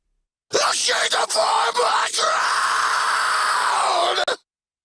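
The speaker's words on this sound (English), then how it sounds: "in the build up to that, we've got this kind of filtered scream thing going on" A filtered, distorted vocal scream in a metal song mix, one loud sustained cry lasting about four seconds with a few short breaks, heard alone and close.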